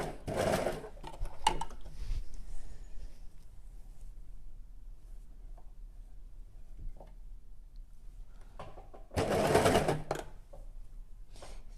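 An overlocker runs along a curved fabric seam for a handmade garment in short bursts of rapid mechanical whirring, with loud runs near the start and again near the end separated by quieter handling sounds.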